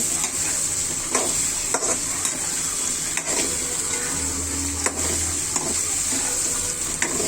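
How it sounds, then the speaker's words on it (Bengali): Tilapia in mustard paste with besan and yardlong beans sizzles in a frying pan while it is stirred constantly. A loud, continuous sizzle runs throughout, punctuated by soft spoon scrapes and taps. "এটা অনবরত নাড়তে হবে তখন আর এটা এই যে বেসন ময়দা ওইটা লেগে থাকবে না"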